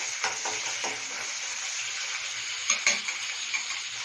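Onion fries in a pan with a constant fine sizzle, joined by a few sharp clicks of stirring about two-thirds of the way through, close and fairly quiet.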